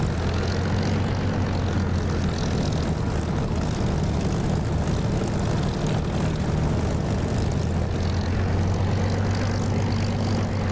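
A propeller aircraft engine drones steadily and loudly with a constant low hum during takeoff preparation in the DCS flight simulator game, continuous throughout with no talking.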